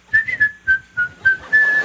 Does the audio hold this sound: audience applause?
no